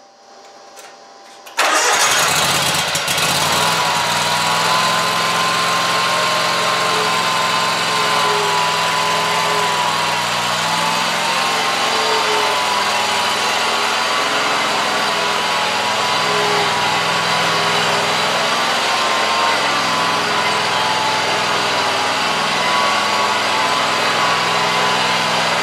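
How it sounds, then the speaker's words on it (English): A Scag Tiger Cub zero-turn mower engine cranks briefly and catches, then settles into a loud, steady running drone up close that continues without talk. "I'm just going to start it up and get it spun around a couple times"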